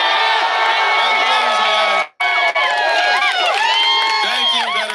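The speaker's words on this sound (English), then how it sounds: "Let's give a round of applause to the veterans." A large political rally crowd in Iowa cheers and whoops loudly in a sustained roar, with shouts rising above it and a brief dropout partway through.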